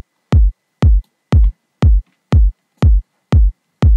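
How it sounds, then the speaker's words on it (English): Punchy, fat kick drum sampled from an original song and left unprocessed, struck eight times at an even, steady tempo, each hit a sharp click followed by a deep booming tail, loud with nothing else around it. "This is a punchy and fat kick which is sampled from the original song"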